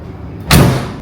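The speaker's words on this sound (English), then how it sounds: "let's see this trademark door close" The door of a 2016 Mercedes-Benz G550 swings shut with a single loud, solid slam close by, set against a faint quiet background with no talking.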